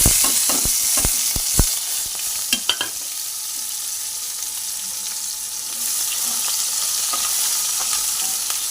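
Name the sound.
onions frying and being stirred in a wok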